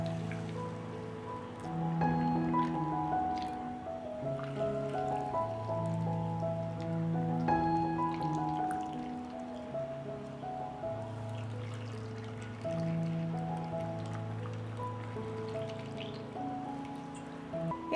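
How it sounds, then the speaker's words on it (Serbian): Water pours steadily into glass jars of sugar, a continuous splashing trickle lasting most of the stretch, faint and close, under gentle background music. "I zatim ću napuniti tegle sa vodom."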